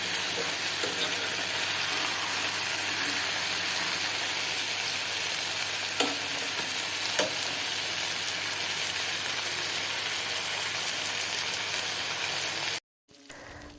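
Rohu fish frying in a pan, a steady loud crackling sizzle that runs without pause and cuts off abruptly near the end.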